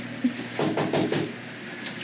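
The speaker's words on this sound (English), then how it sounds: "They knock on the door." Knocking on a door during crate training for a dog: a quick cluster of four or five dull raps, close and moderately loud, with brief quiet before and after.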